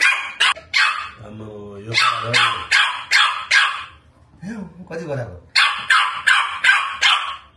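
A pet dog barks repeatedly at home in loud, sharp bursts, with a few growls and yips mixed in, while a person talks between the barks.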